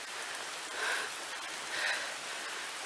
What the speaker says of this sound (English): It's raining, as you can see.